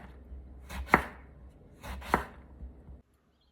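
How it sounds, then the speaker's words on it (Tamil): A knife cuts 750 grams of small brinjals into round slices on a board. Two distinct, crisp chopping strikes land about a second apart, close and clear, with quiet handling noise in between. "கத்திரிக்காய் எல்லாம் ஸ்லைசஸாக வெட்டியாச்சு."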